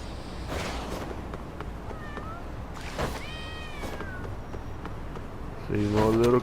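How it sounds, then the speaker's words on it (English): Several cats meow in short, rising and falling cries in the video game Lost Judgment, scattered across a quiet ambient background while a voice speaks softly beneath them. "See more little kitties."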